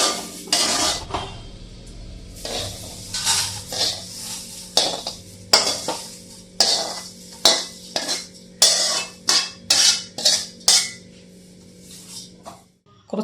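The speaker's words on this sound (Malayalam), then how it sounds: "ഇനി തീ അണച്ചിട്ട് ഒരു മിനിറ്റ് ഒന്ന് ഇളക്കിയാൽ മതി" Roasted coconut chammanthi podi stirred in a pan with the heat off, a spoon scraping and clinking against the metal in a series of quick, close, irregular strokes with short pauses between.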